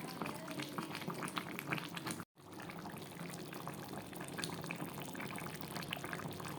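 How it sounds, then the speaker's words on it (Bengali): Meat curry simmers in a pot, its liquid boiling with a soft, continuous bubbling hiss that stays steady and fairly faint, broken by one brief dropout. "এই যে দেখো মাংসটা হচ্ছে, এটা শুকায় ফেলবো, জল বেড়াই গেছে"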